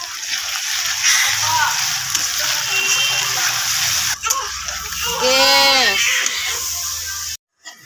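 Rui fish pieces go into a pan of reddened onion and ground spice paste and set off a continuous hiss of sizzling with splashy sloshing, while a voice speaks nearby and a cat-like meow rises briefly.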